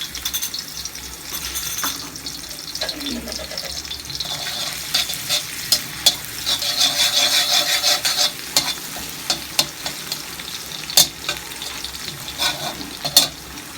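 Garlic sizzles in a hot pan for chili garlic sauce, two spoonfuls stirred steadily with a utensil that scrapes and clinks sharply against the pan over a continuous close frying hiss.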